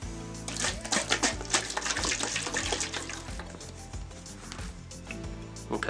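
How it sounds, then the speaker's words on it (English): Water sloshing inside a lidded container during a rapid-prototyping materials test, a continuous close, loud churning splash with no pauses. "So this did come with a lid, so I'm just going to put the lid on and shake it around a bit."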